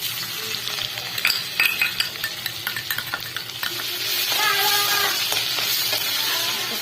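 Ginger garlic paste fries in a pan for pav bhaji, with a steady sizzle broken by frequent clicks and stirring taps that swell into a louder, denser hiss partway through.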